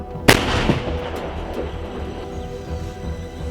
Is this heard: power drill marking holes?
no